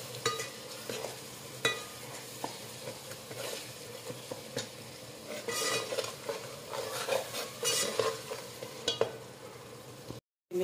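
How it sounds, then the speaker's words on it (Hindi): Four chopped green chillies fry and sizzle steadily in a pan while being stirred, with scraping strokes and occasional clinks of a spoon against the pot throughout, cut off abruptly at the end. "इसका मिक्स कर देंगे अच्छी तरह से, भून लेंगे।"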